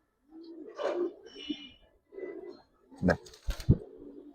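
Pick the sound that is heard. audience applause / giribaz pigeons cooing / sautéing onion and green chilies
giribaz pigeons cooing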